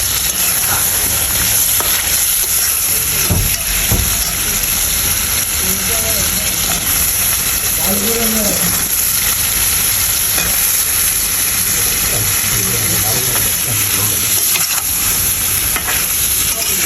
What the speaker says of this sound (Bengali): মশলা দিয়ে ভালো করে মশলাটাকে কষাই নিব।